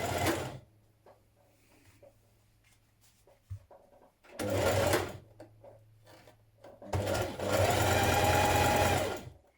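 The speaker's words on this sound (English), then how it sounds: "Then we're going to stitch these in place again, 3/8 of an inch or just under 1 centimetre." A sewing machine stitches seams on a knit dress in three loud, close bursts of rapid, whirring needle chatter, separated by quieter pauses with a low hum and faint handling sounds.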